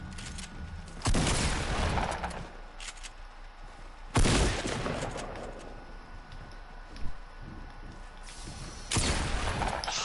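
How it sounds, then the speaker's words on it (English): Heavy shotgun blasts in a multiplayer video game: three loud, booming shots spaced several seconds apart, each with a broad crack and decaying tail over low background noise. "Oh, heavy shotgun."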